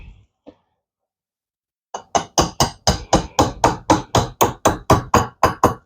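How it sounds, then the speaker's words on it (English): A gunsmith hammer taps a punch into the pin of a CZ steel handgun, about sixteen sharp, evenly spaced metallic strikes close up, after a faint knock and a short silence. "Gunsmith hammer."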